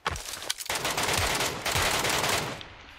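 Automatic weapon fire in PUBG Lite, a dense continuous burst of rapid loud shots lasting throughout, briefly pausing near the start before resuming and tailing off at the end.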